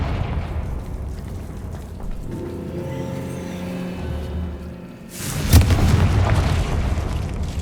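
A Confringo spell explosion in the Hogwarts Legacy video game: a low murmuring lull gives way to a sudden loud boom with a rumbling, crackling tail.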